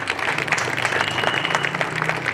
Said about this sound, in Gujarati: Round of એપ્લોઝ for this.